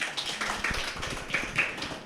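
An audience at a forest and environmental education symposium applauds to welcome a panel speaker, a moderate, continuous patter of many hands, fairly soft and evenly sustained.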